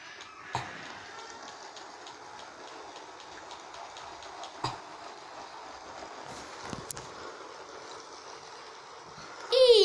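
A Lego toy train runs in reverse with a quiet, steady ticking and clicking of its wheels and motor, with a few sharper knocks and a louder burst at the very end.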